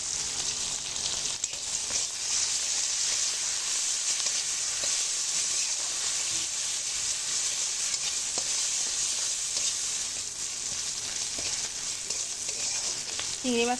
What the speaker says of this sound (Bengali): আমার খুব সুন্দর করে ভাজা হয়ে গেছে ঝাল পেঁয়াজটাও ভাজা হয়ে গেছে